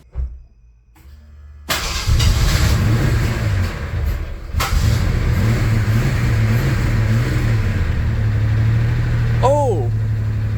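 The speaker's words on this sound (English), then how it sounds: "I started it up for the first time. This is what it sounds like." A 1988 Ford Bronco II that sat for eight years cranks and catches after a quiet moment, then runs loud and steady with a slight rev, its engine noted as knocking.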